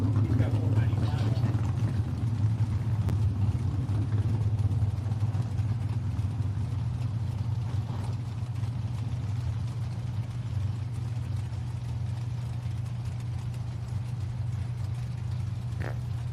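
A Camaro Roadster lines up at a drag race strip, its engine making a continuous low, heavy rumble that holds steady throughout, with a voice talking over it.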